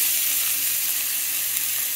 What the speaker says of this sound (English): You want to get a sizzle.